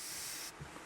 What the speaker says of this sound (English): and it puts out a nice fine mist